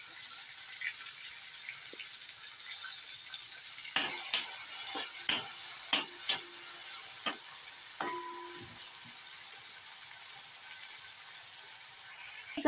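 Onion dropped into hot butter in a pan for paneer bhaji, a steady loud hiss of frying with several sharp clicks and scrapes of a spoon against the pan.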